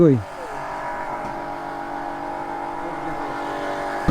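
A Suzuki Gixxer motorcycle with a cut exhaust runs at a steady, loud, buzzing engine drone close by for about four seconds, with a short rising note at the start.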